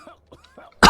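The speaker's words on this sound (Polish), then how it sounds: "Ale kaszel już jest." A single sharp, loud cough bursts in after a stretch of quiet, faint background game sounds.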